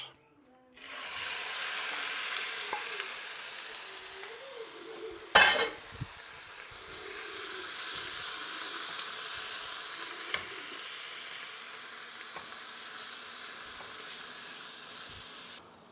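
Mushrooms, chilies and red pepper sizzle in a hot frying pan, a steady moderate frying hiss that runs through the whole stretch, with a brief louder clatter near the middle and no voices.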